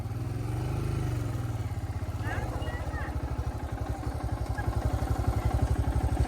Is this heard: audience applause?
no